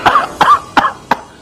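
Four close, harsh coughs from one woman at a diner booth, evenly spaced and loud, with no talk.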